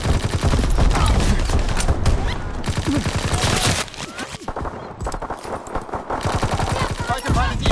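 Strafing gunfire from a fighter plane in Call of Duty: WWII, a loud, dense burst of rapid machine-gun fire with a brief dip in the middle before the sustained rattling resumes, all close and without talk.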